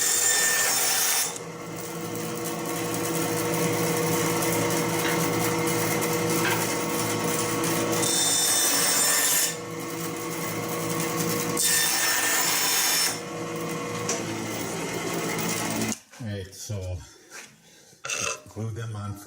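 Wood pieces for a bowl are cut out and sanded with power tools, giving loud, continuous rasping and sawing passes separated by short pauses, ending with quieter scraping handling noises.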